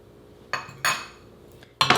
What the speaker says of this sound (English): we're just going to come in here with a fork and just kind of mix this all together